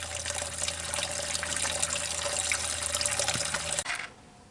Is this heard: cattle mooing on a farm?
no